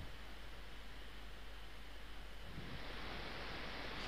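Steady broadband rush of flowing water at Leith River in Final Fantasy VI, a continuous even wash with no break, moderately loud and alone.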